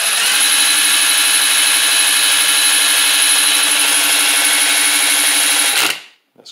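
A power drill spins a telephone magneto in a loud, steady, high-pitched whine that holds evenly for about six seconds, then cuts off abruptly and winds down to quiet.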